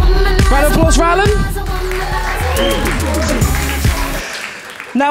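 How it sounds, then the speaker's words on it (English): Audience applause at a student union question time event, loud and close, mixed with pop music playing and some cheering and chatter from the crowd. "Round of applause for Alan"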